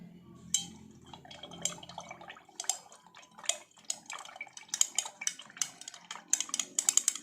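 A utensil stirs silver precipitate in a liquid during metal recovery with copper and salt, giving soft irregular clinks, scrapes and watery swirls, close and quiet, growing busier toward the end.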